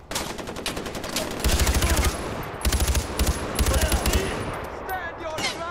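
Rapid automatic gunfire from the video game Far Cry 4 crackles in several dense bursts separated by short gaps, loud and sharp over a busy background of game noise.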